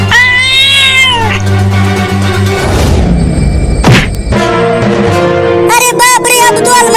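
A cat meows loudly and repeatedly in a household, with a strained, drawn-out caterwaul, mixed with thumps and a thud, over a dense layered background of music-like tones.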